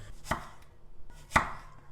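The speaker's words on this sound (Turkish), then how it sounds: "Böyle ikiye bölüyorum domatesi ve ince ince şöyle doğruyorum." A knife chops a tomato twice on a cutting board, two crisp, separate thuds about a second apart, close and fairly quiet.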